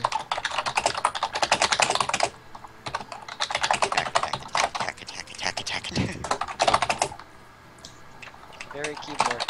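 Rapid clattering keystrokes on a computer keyboard, close and fairly loud, in dense bursts with short pauses between runs, with faint voices nearby.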